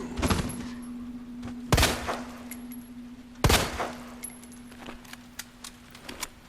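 Gunfire in the Resident Evil 2 Remake video game: three loud, sharp shots spaced over several seconds, with fainter clicks and a steady low hum between them and no talking.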